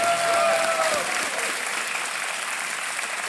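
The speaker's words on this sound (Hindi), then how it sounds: "तालियां बज जाएं" Studio audience applause on a TV quiz show congratulating a contestant, a loud, dense burst of clapping that carries on steadily, with a host's voice briefly over the start.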